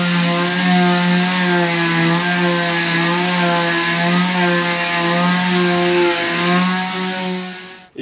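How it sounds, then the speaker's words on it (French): A steady, loud mechanical whine with a constant buzzing drone from an orbital sander on a parquet floor runs unbroken for several seconds, then cuts off abruptly at the end. "Donc on va les repasser avec la ponceuse vibrante."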